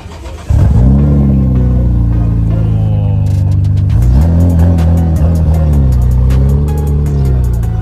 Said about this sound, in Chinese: 突然来了一台 Midnight Purple R34 GTR， 超贵的。 然后发动是不是？